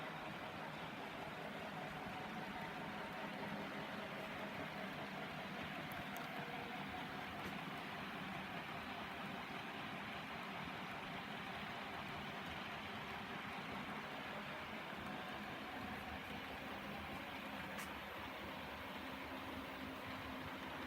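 A model train runs eastbound around a home layout, a faint, steady low rumble and hum of the small locomotive and cars rolling continuously with no voices.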